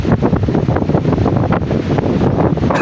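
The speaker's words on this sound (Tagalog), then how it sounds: "Mahangin masyado" Strong wind roars and gusts against the microphone by the sea, a steady low rumble with rhythmic buffeting, loud and close.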